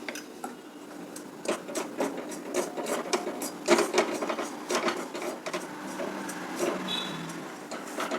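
Finger millet is roasted in oil in a pan, with a spoon scraping and stirring in a busy run of dry, gritty scratches and taps that continues throughout at moderate loudness.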